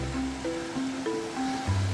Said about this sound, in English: Got some waterfalls.